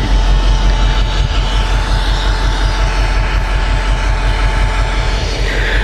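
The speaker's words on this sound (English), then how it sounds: "That train's running too." A Union Pacific freight train rumbles steadily nearby, a loud continuous roar of rolling wheels and heavy cars with faint rhythmic clatter.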